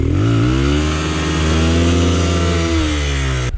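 A Rieju Marathon Pro enduro motorcycle revs hard as its back wheel spins in clay on an upstream climb, a loud, steady, close engine drone with shifting pitch.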